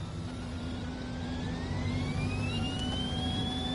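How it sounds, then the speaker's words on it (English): Honda turbo engine of an F1 car in F1 2021 at Bahrain, a steady loud roar with a rising whine climbing in pitch as the car accelerates, continuous throughout with no talk. "You just hear the turbo roaring there."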